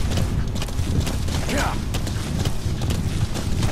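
Horse galloping in the video game Metal Gear Solid V: The Phantom Pain: steady, fast hoofbeats thud close up throughout, mixed with dense game ambience.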